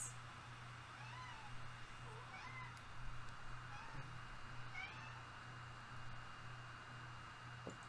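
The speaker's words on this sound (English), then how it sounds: "Hey, kitty." A cat meows in a video game, several faint, soft mews spaced across the stretch over a steady low hum and background hiss.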